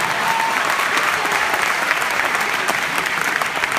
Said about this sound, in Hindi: तालियां साहब जोरदार बजाइए